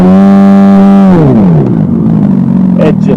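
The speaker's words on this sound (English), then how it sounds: "throttle engine noise." A custom eBike's synthetic throttle engine sound, loud and buzzy, holds a steady pitch, then winds down into a lower rumbling idle that keeps going.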